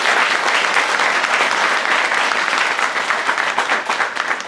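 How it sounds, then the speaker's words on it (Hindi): Dense, loud applause fills a hall at a Delhi Police selection celebration. A crowd claps continuously and evenly throughout, with no voices rising above it. "एक बार जोरदार तालियां इस बच्चे के लिए।"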